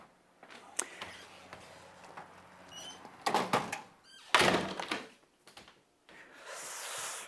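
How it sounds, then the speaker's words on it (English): A home door is opened and closed, with a few scattered knocks and clunks, a sharp latch-like thump near the middle and a longer shuffle of movement afterward; no talking. "I can get the door."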